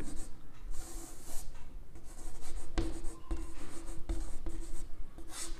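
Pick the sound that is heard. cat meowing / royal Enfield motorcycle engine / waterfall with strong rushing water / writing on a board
writing on a board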